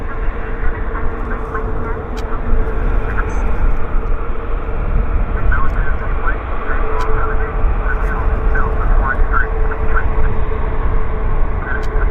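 An All Nippon Airways airliner moves out close by at Vancouver airport with a steady low engine rumble and whine, while a person talks over it and faint chirps sound in the background.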